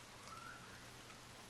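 Soft, steady rainfall hisses evenly throughout at low level, a constant wash of drops with no voices or other distinct sounds on top.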